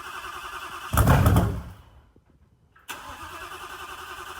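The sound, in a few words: twin turbo Coyote Mustang engine first start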